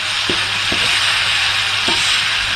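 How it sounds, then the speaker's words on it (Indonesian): Blended spice paste sautéing in a pan gives a steady, bright sizzle, close and continuous, with a few soft knocks of stirring. "Kita tumis sampai agak bau ni."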